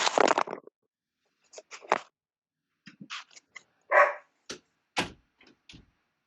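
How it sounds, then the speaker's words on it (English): A one-year-old female puppy barks and yips in short, loud, separate bursts with brief pauses between them, close to the listener, with no voices heard. "I'm just going to close this door because my puppy is going nuts."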